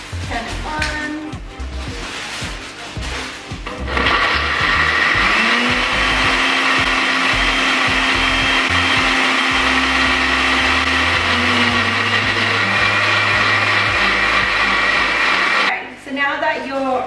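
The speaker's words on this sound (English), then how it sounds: "We're literally just going to blend them all together." A kitchen blender purees whole oranges for an orange almond cake, roaring steadily and loud for about twelve seconds after a short stretch of talking, then cutting off abruptly.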